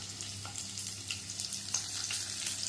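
Ginger, garlic and onion petals frying in a pan for a raw jackfruit chilli, a steady close hissing sizzle with faint intermittent stirring scrapes.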